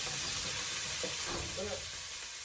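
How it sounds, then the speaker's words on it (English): Ginger, peppers and garlic stir-fried in a pan give a steady low sizzle with a few scraping stir strokes, close and continuous, with faint background noise. "stir fry these ginger, peppers, and garlic a little bit so it brings out the flavor"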